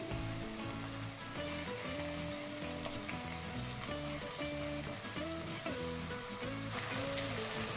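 Cashews frying in oil in a pan while cooking cabbage fried rice give a continuous, dense sizzle with crackly bubbling that holds at a steady level throughout, with no voices.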